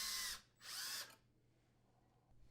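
A power drill whirs in two short bursts while drilling pilot holes into a dishwasher's custom door panel, close and loud, followed by a quiet room.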